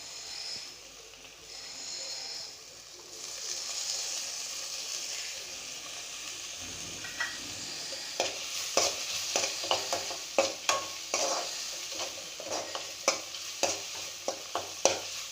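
Tomatoes frying in oil in a pan, a soft hiss at first that gives way to a run of quick spatula clicks and scrapes growing busier toward the end.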